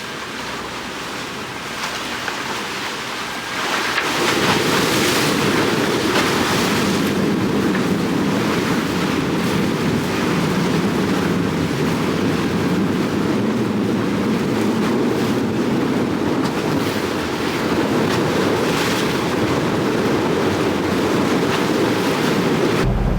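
A sailboat motors along a sunny coast toward Gibraltar, its engine droning steadily under a constant rush of waves and wind buffeting the microphone, starting after a few quieter seconds.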